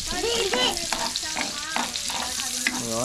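Onion and garlic sauté in a hot pan for kare-kare, a loud close sizzle with scraping stirs and clinks of a utensil, while people talk over the cooking.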